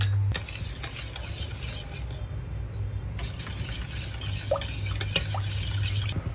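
Coconut milk with sugar and salt cooks in a pot for mango sticky rice, giving a steady low simmering hiss with a few small utensil clicks, close and continuous, without talk.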